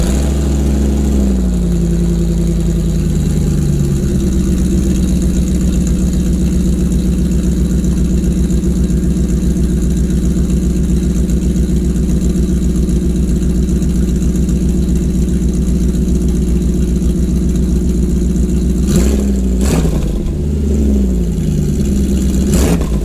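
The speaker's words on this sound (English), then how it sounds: "So let's give you a little bit of a cold start." A 1998 Jeep Grand Cherokee engine on a cold start, settling into a steady, loud idle close by, with a few sharp revs near the end; no talking.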